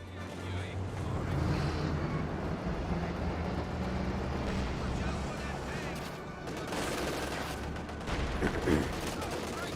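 120mm mortar firing in Company of Heroes 2 amid a busy battle: steady gunfire and dull thumps, with a voice talking over the fighting.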